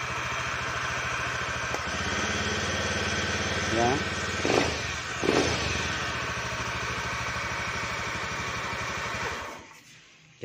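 A fuel-injected motorcycle, repaired after failing to start, idles steadily at close range with a continuous low hum, a couple of light blips partway through, and someone speaking briefly before the engine cuts off at the end.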